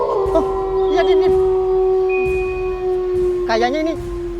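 A wolf howls in a long, steady, sustained tone, heard clearly throughout while people talk briefly over it in short bursts.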